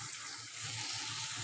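Water poured steadily into a pan of fish curry with ground masala and oil, a continuous close splashing pour that swells slightly partway through, with no talking.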